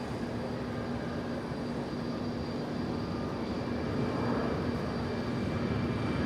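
A FedEx heavy jet rolling for takeoff on runway 25 left at LAX, a steady broad engine roar heard from a distance that swells slightly toward the end.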